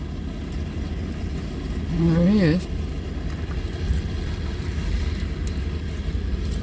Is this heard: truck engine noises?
yes